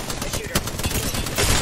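Rapid bursts of gunfire in the Apex Legends Winter Express mode, loud and close, crackling in dense overlapping volleys with a voice partly under the shots.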